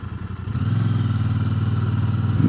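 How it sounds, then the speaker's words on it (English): A close 2023 Royal Enfield Super Meteor 650 motorcycle engine burbles with a rapid, throbbing pulse, building slightly in loudness toward the end. "Nice little burble there from the engine."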